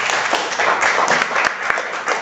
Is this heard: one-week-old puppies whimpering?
no